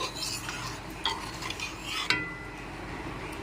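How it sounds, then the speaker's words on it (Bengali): Raw mango lentil daal, thin masoor dal sweetened with a little sugar, bubbling in a pot on a gas stove: a steady soft seething with a few brief clinks, close and moderate. "এবার 2 মিনিট ফুটতে দিচ্ছি"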